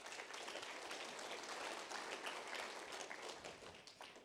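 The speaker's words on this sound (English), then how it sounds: "So you guys deserve a round of applause for that." Audience applause at a talk on the 30x30 land policy, a steady wash of distant, fairly quiet clapping that holds evenly for the whole span with no voices over it.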